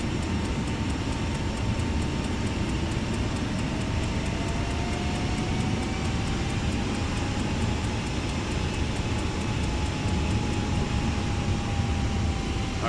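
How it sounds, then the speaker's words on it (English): The right engine of an F406 Caravan II in a flight simulator spools up inside the cockpit, a loud steady roar with a rising whine that holds without a break for the whole stretch. "So we're gonna turn on the right engine."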